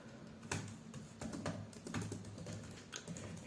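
Steady, fast typing on a computer keyboard while JavaScript code is written. Dense, close clicking keystrokes run continuously with a slight low hum behind, and no talking.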